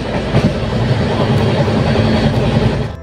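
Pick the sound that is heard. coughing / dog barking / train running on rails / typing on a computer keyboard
train running on rails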